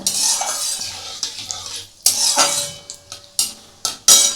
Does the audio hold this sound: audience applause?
no